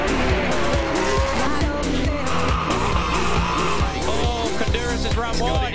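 Mosler GT race car in the Australian GT Championship charging to the finish, its engine roaring loud and continuous with gear changes, under excited commentary voices.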